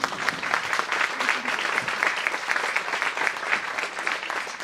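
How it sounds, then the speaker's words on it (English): An audience gives a round of applause at a social media meetup, a dense, steady wash of many hands clapping that holds loud and even from start to end. "So I think they deserve a round of applause."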